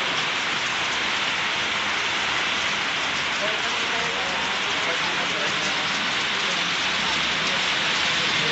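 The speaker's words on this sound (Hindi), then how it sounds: "देखिए नारायणपुर में बारिश पड़ रही है आज" Heavy rain pours down steadily in Narayanpur, Bihar, India, a dense, continuous hiss of water hitting surfaces, loud and close, with no clear speech.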